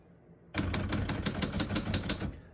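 A 1955 Royal Quiet De Luxe portable typewriter starts up after a short pause, its keys striking in a fast, even run of about a dozen crisp mechanical clacks, close and clear.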